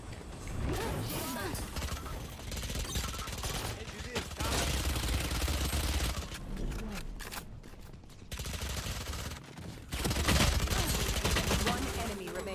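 Gunfire in the shooter game Valorant: dense, continuous volleys of shots and impacts, loud and sustained with a few brief lulls, mixed with game effects.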